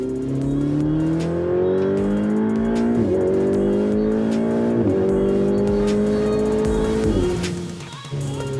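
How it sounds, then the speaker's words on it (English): A high-revving Ferrari 488 engine climbs in pitch through several gear changes, each shift dropping the tone briefly before it screams upward again. "Now you can hear that beautiful engine sing."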